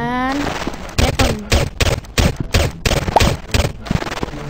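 A shotgun in a Roblox game fires repeatedly, about ten loud, sharp blasts at an irregular but brisk pace, each with a short ringing tail, and a brief tonal sweep comes before the first shot.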